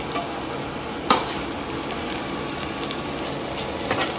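Browning onions and crushed garlic fry in a pan with a loud, dense, constant sizzle, broken by one sharp scrape of a utensil.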